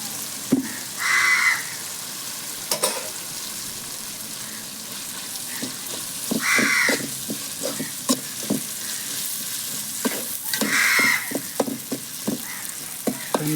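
Ginger garlic paste frying in a pan at a village cookout, a close crackling sizzle with bursts of stirring scrapes, while crows caw in the background three times.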